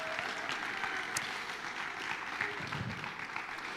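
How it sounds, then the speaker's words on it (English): Parents and audience at a school event applaud steadily, a moderately faint, dense patter of many hands with an occasional sharper clap standing out, continuing evenly without pause. "A round of applause too"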